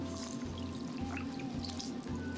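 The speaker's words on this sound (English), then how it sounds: "fill this bowl up with spring water" Spring water pours steadily into a bowl of citrus peels, a close, continuous splashing trickle with a faint pulsing rhythm, no voices.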